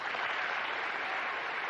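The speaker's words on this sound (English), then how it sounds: "every time he sinks a ball, he's getting so much applause" Crowd applause fills a snooker arena at the 1998 Welsh Open final, a steady, distant wash of clapping with no voices over it.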